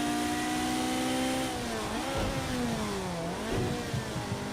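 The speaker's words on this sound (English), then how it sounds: "Oh, listen to the spool of the turbos." A twin-turbo Ferrari V8 in Project Cars 2 pulls hard and close, its engine note climbing then dropping through gear changes, with a whooshing turbo spool layered over the roar.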